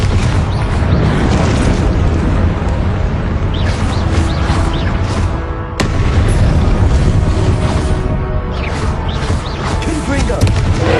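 Confringo spell explosions in the Hogwarts Legacy video game sound as repeated heavy booms and crackling blasts over busy game sounds, loud and near, with a voice talking at times during the sequence.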